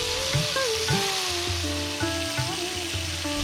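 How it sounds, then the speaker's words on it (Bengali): Hilsa fish pieces fry lightly in a pan, a steady, moderate hiss partly covered by tuneful background music. "হালকা করে মাছটাকে ভেজে নিলাম।"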